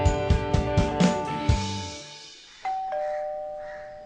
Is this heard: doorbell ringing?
yes